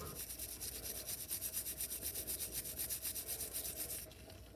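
A rusty metal surface is rubbed clean by hand in quick, even back-and-forth strokes, about five per second, faint and close, stopping just before the end.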